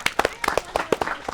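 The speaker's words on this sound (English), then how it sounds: "let's give Sarah a round of applause" A round of applause for Sarah at a meet-and-greet event: a few close, sharp claps in an uneven rhythm over about a second and a half, with little crowd wash.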